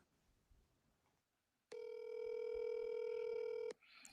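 A telephone tone sounds during a call attempt: a single steady electronic tone holds for about two seconds, clear and prominent over a faint, quiet room background, with no talking.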